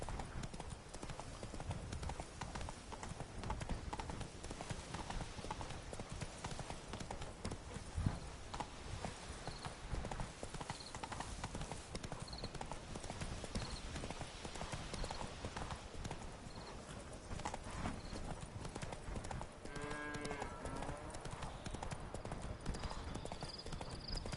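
Geralt's horse Roach runs in The Witcher 3, a fast, continuous clatter of hooves near and prominent, with a faint whinny late on and occasional quiet game sounds.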